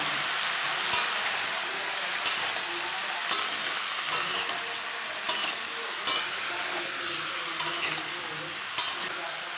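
Potato and pumpkin chunks fry in a pan for a mixed vegetable dish, giving a loud, steady sizzle broken by regular clicks and scrapes of a spoon stirring about once a second.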